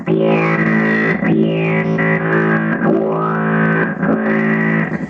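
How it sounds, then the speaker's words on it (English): A sustained, heavily processed bass guitar tone through a Zoom B2 synthesizer preset, with a synthesizer-like filtered sweep, distorted and continuous, played alone and loud. "Another whole bank of synthesizer sounds."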